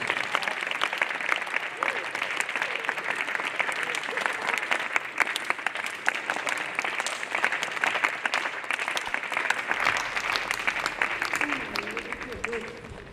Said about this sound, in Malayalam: എല്ലാവരും നിറഞ്ഞ കയ്യടികളോട് കൂടിയിട്ട് ടി പി ശ്രീനിവാസൻ സാറിനെ നമുക്ക് സ്വാഗതം ചെയ്യാം